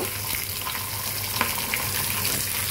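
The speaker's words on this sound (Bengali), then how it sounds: "দিয়ে দিলাম তেল, দিয়ে দিলাম মাছের পেডি। মাছের পেডি ভেজে নিব।" Belly pieces of a large fish frying in hot oil give an even, continuous hiss at moderate level, with a few faint knocks and no talking.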